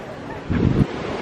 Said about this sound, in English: The beautiful Atlantic Ocean.